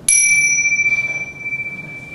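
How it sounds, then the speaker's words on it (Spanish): A bell used in Zen meditation struck once, ringing with a bright, clear attack and a long, steady tone that fades slowly over about two seconds, close and alone. "otras dos campanas que se usan mucho también en la meditación zen"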